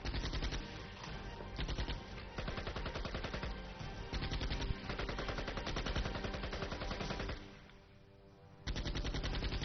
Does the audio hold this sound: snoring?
no